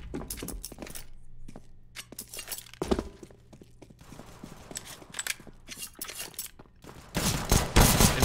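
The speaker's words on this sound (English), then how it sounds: "Voltage and Spammer having a pistol fight in apps" Pistols trade fire in a CS:GO match, sharp cracks scattered over a busy game mix of footsteps, clatter and rising noise, the shots coming in quick irregular bursts.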